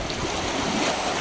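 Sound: Uruguay River water flowing at the riverside promenade

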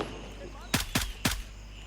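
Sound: gunfire in a video game

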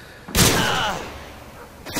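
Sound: gunfire in the video game Modern Warfare 2

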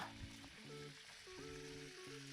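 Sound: veal pieces thrown into the pan, frying and sizzling

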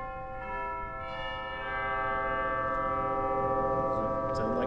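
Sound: Deagan Class A organ chimes ringing without dampers

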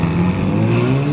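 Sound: Ferrari 458 supercar engine revving

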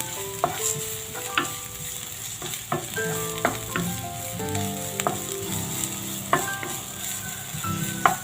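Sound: sautéing white onion in a little oil

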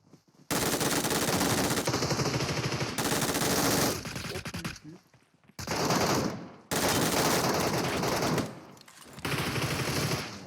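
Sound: gunfire in the video game PUBG Mobile

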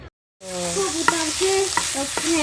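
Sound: greens (shak) frying in a pan

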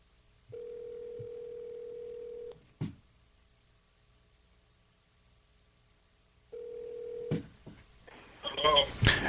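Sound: telephone ringing on an outgoing call

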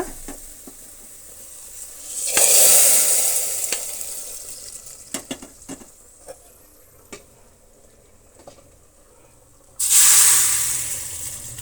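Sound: tempering spluttering into sambar

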